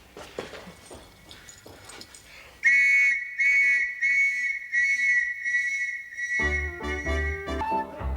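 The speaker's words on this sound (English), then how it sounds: "You could try whistling." A person whistles one long, steady note in a Victorian-era detective drama. The note follows muffled background noise and then gives way to loud music.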